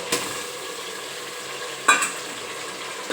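Ginger, garlic and onion paste frying in a pan for mushroom biryani. A low steady sizzle is broken by two sharp metallic stirring clinks and scrapes, close and fairly quiet, with no voices.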